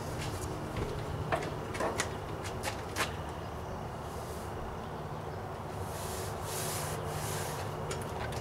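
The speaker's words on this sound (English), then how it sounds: "take out one block at a time, rub it down" A wooden block rubs down laminate on a table top for a DIY travel trailer, giving a steady close scraping hiss with a few sharp knocks early on and a louder rubbing burst near the end.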